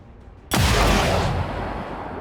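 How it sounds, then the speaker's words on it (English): A single loud sniper rifle shot in XCOM 2 cracks out after brief quiet, followed by a long booming rumble that fades slowly. "we will immediately use that to take a sniper rifle shot against the officer"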